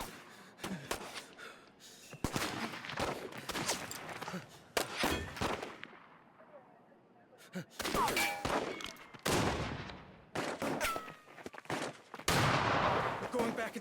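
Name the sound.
sniper gunfire in As Dusk Falls video game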